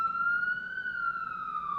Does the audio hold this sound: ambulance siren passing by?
yes